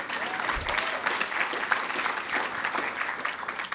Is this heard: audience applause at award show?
yes